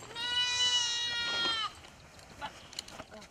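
A sheep bleats loudly and close by during a Bakhtiari nomad migration, one long wavering cry followed by quieter outdoor rustling and faint distant sounds.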